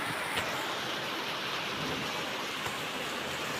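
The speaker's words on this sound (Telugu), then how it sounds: "వాన పడుతుంది" Steady rain falling outdoors makes a dense, even patter, continuous and moderately loud, with a few sharper drops standing out and no voices.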